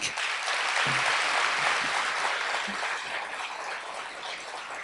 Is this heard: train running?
no